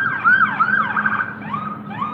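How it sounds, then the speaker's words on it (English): Emergency vehicle sirens wail outside with overlapping rising and falling tones, loud and continuous, sweeping past with no talking over them. "now we gotta deal with the sirens"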